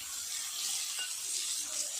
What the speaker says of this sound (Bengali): এই তেলের মধ্যেই বেগুন ভেজে নেব।